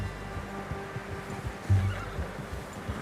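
A horse in the Red Dead Redemption 2 video game gives a short, snorting neigh with a brief whinny, close and moderately loud over low ambient game background, with faint hoof clops.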